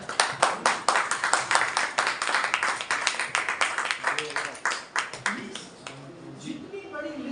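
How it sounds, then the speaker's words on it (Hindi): Audience applause at a Manthan business training program, with a dense burst of many hands clapping that fades out after about five seconds, leaving a person speaking over a quieter room. "ताली"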